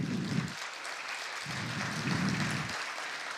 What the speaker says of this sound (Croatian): molim vas jedan veliki aplauz